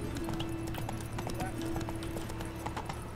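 A horse in The Witcher 3 video game trots with steady clip-clop hoofbeats under a continuous low game hum and background ambience.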